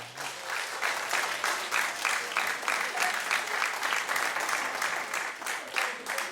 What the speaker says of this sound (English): But clap if you agree with me, I like it.